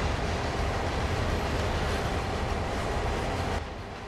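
Electric locomotive train braking to a gradual stop in Train Sim World, a steady loud rumble of rolling wheels that drops slightly in level near the end, with no talking.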